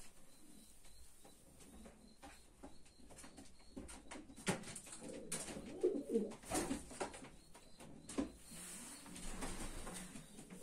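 A racing pigeon, a black pied Faber cock bred in 2011, coos softly in a loft, with low repeated coos and other birds and scattered clicks around it, fairly quiet overall.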